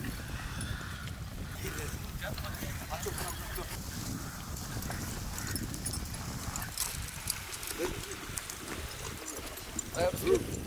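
Horses led at a walk around a circular track during early-morning training for a cup race, their hooves giving a steady, continuous clip-clop beneath ongoing voices.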